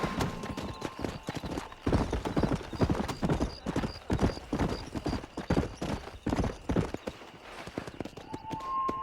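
A horse gallops in the Red Dead Redemption video game, a fast, even clip-clop of hooves close by that runs steadily throughout, with faint game music tones in the background.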